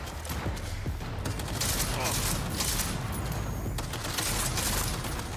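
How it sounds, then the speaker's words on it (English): Shotgun blasts and dense gunfire in the Cyberpunk 2077 Phantom Liberty video game, loud and continuous with booming low end and repeated sharp bursts, a voice talking underneath. "Yo, that shotgun different."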